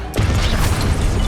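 A Confringo fire spell bursts in a Hogwarts Legacy boss fight, an explosive boom that hits suddenly and rumbles on with crashing debris for the rest of the moment.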